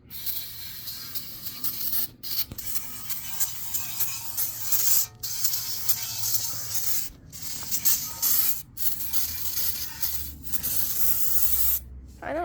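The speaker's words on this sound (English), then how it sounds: "we'll be back with you once we spray all this down, get the pan cleaned up" Cleaner is sprayed onto the transmission pan of a 2004 Lexus RX330 in long, loud, hissing bursts, each lasting several seconds, with brief pauses between them, up close.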